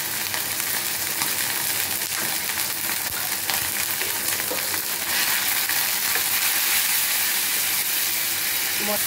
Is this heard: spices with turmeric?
yes